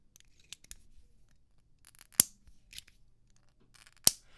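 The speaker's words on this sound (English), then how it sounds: "So this one's pretty scratchy, and I think part of the reason for that is because they've narrowed down the side click" Two sharp, scratchy clicks from the side-click mechanism of a Tactile Turn Anso titanium pen, close and isolated, with faint handling noise in between.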